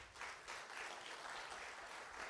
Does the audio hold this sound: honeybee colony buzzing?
no